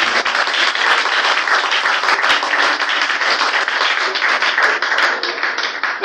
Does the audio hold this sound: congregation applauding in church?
yes